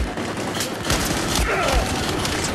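In the Battlefield 4 video game, rapid gunfire sounds as a dense, rattling burst of close shots over a busy, noisy mix of game sound.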